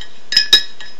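A metal spoon clinks against a cup while stirring Nesquik and sugar, making three quick, bright taps close by.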